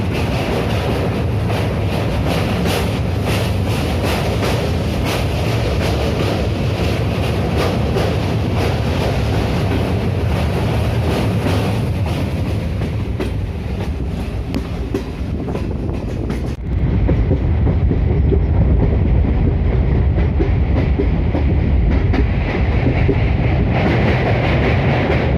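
A DEMU diesel multiple unit train pulls away from Gulma station toward Sevoke by the Mahananda Wildlife Sanctuary, its engine droning loudly and steadily with a rumbling, rattling ride. The sound swells as it gathers speed, and no one speaks.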